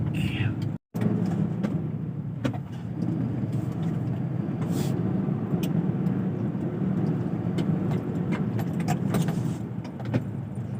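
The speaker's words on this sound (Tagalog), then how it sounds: "traffic" Road traffic near Southwoods, Biñan, Laguna, a steady rumbling wash of passing cars and vehicles with scattered rattles and clinks, continuous and fairly close, with voices talking over it.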